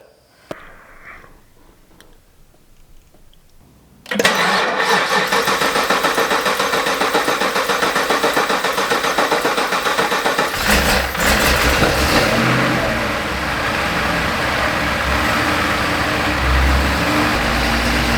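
A Cadillac CTS-V V8 fired up after a spark plug change: a quiet lead-in, then a sudden loud start at about four seconds settling into a steady, close, rumbling run with slight revving shifts.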